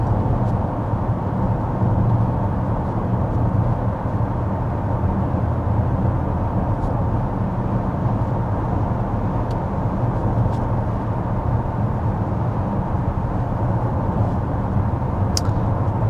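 Steady road and wind noise fills the cabin of a 2024 Cadillac XT5 V-6 cruising at 55 mph, a constant low rumble and hiss with no talking.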